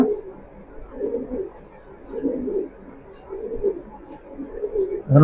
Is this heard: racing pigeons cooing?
yes